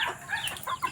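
Chickens cluck nearby in short, choppy bursts, a busy run of farmyard clucking with no talking.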